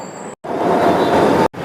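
A Kochi Metro electric train, powered by DC current, runs with a steady, loud, broadband rumble and hiss that cuts out abruptly twice.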